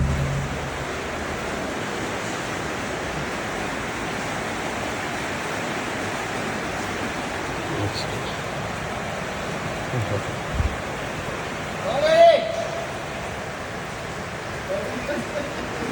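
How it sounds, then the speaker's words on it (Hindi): Very heavy rain in Saudi Arabia falls as a steady, broad hiss with water running, continuous throughout, with a few brief louder knocks and a short voice near the end. "बहुत जबर बारिश है,"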